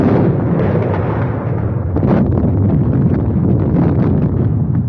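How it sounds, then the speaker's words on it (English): Artillery barrage over a trench in a war film: a continuous, loud, rumbling roar of blasts blending into one heavy wall of sound, with no voices. "Somebody will have to crawl through that barrage."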